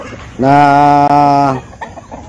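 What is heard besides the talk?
chickens clucking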